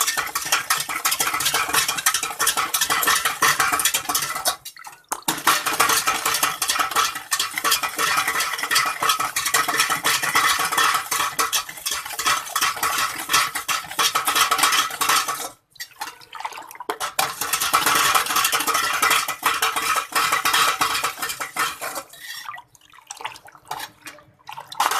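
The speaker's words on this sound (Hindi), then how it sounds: "इसमें मैं पहले चीनी डालूँगी और इसे हम अच्छे तरीके से मिक्स कर लेंगे।" Sugar is stirred in a pot for tukh malanga sharbat, a close, continuous swishing and scraping broken by a few short pauses, with no talking.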